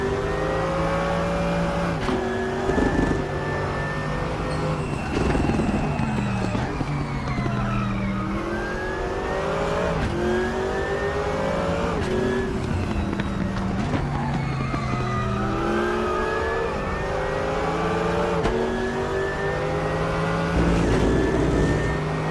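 A race car engine in the sim racing game Raceroom revs and climbs through gears on an uphill section, loud and continuous, with repeated rising pitch sweeps, throttle lifts and brief tyre scrubbing.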